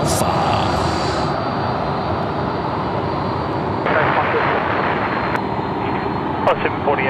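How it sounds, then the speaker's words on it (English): A Boeing 737-800 converted freighter at Sydney Airport at night gives a loud, sustained jet roar that swells partway through, with a few sharp clicks over the top. "the Boeing 737-800, Boeing converted freight"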